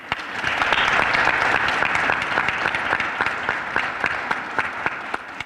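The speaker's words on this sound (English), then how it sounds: "So I'd like to give a big round of applause to all the teachers at Colerain High School" Loud, sustained applause from the crowd at a Colerain High School academic recognition ceremony, honoring the teachers; many hands clapping at once with crisp individual claps cutting through.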